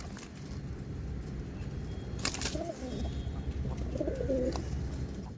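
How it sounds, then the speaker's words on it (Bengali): Chini pigeons coo in low, soft, rolling calls, a few separate bursts over a steady background hum, with a brief sharp rattle near the middle and no talking. "দেখছেন সমস্ত চিনি পায়রা।"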